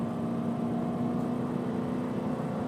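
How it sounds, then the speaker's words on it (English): A steady engine hum with a constant low tone, heard from inside a moving car, a 2005 Saab 9-5 Wagon or 2014 Subaru Forester, even and continuous with no talking. "That engine has a nice sound."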